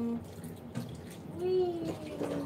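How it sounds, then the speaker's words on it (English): Water runs and splashes against the glass sides of an African clawed frog's tank during cleaning, a fairly faint, close rinsing with brief tonal whines and a voice partly heard. "just quickly rinse off the sides from all of this poop"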